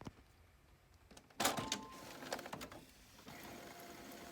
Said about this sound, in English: First thing you gotta do is open up the printer.